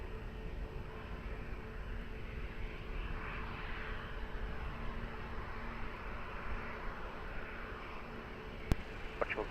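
A Transat heavy jet on approach to runway 20 at Lisbon Airport gives a steady, moderately loud engine rumble and hiss that holds level throughout, with a sharp click near the end.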